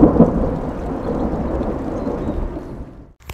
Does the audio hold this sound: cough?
no